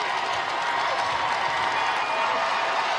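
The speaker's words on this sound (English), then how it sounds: "you hear the crowd swelling" Broad, steady roar of a basketball arena crowd at a women's college game between Ohio State and Maryland, loud and building with scattered clapping and cheers, no distinct voices on top.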